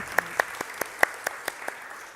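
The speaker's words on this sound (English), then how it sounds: "So let's give a big round of applause for our amazing speakers." Audience at a conference session clapping for its speakers, heard as a short run of separate, evenly spaced claps rather than a full roar, fairly close and without talk.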